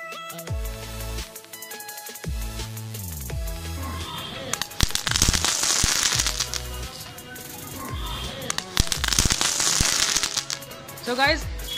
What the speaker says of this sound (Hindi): अब ये है चटपट, ये सारे चटपट हम एक साथ चलाने वाले हैं।